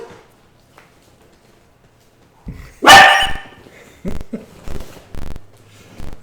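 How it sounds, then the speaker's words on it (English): A dog barks outside a window, one sharp loud bark followed by several shorter, fainter yaps spaced apart. "Dog, I think."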